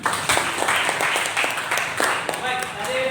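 A classroom audience claps briefly, producing a quick run of close, fairly even hand claps with voices heard alongside.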